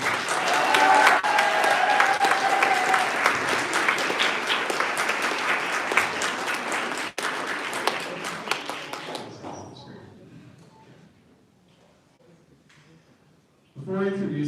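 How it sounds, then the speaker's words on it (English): Audience applause at a graduation ceremony for Merit Conservatory's graduating seniors, a loud, dense clapping crowd sustained for several seconds before thinning out and dying away into near silence, then a voice starts speaking. "And how about another round of applause for Mr. Ranger, Aaliyah, and Sophia"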